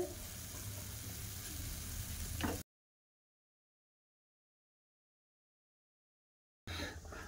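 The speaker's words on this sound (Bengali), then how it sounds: "বাদ বাকি বিস্কুটগুলো সব আমি এভাবে ভাজা করে নেব" Biscuits deep-frying in oil give a soft, steady sizzle at first. It cuts off abruptly into several seconds of total silence, then returns briefly at the end.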